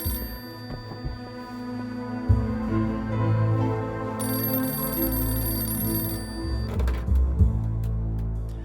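A telephone rings in a steady repeating electronic tone over a low hum, fairly loud and without talk, in a French television drama scene.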